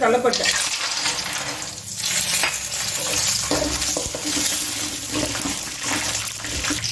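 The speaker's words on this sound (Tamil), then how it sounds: "எண்ணெய் எண்ணெய் காஞ்சிச்சுங்க கடுகு போடுறேன் பாருங்க" Mustard seeds fry in hot oil in a pan, a loud close crackling sizzle with bursts of popping and stirring scrapes throughout, a faint voice briefly in the background.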